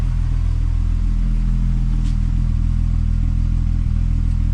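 A VW MK4 12-valve VR6 with freshly installed 268 cams idles steadily, a smooth, even low rumble, close and constant, with no talk.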